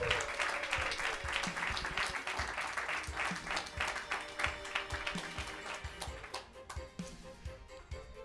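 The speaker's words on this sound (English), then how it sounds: "Can I first have a huge round of applause" An audience at a Super Smash Bros. Ultimate tournament grand final gives sustained applause for the runner-up, a dense steady clatter of many hands clapping with no talk.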